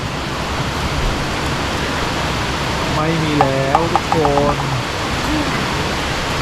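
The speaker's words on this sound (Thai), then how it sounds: "ตอนนี้ฝนตกหนักมาก ทำอะไรไม่ได้เลย เดี๋ยวให้ดูบรรยากาศฝนตกนะทุกคนตอนนี้" Heavy rain pours at a mountain lodge at Phu Thap Boek, a loud, steady hiss that fills the whole stretch, with someone speaking briefly over it near the middle.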